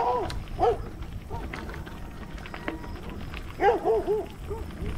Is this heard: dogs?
yes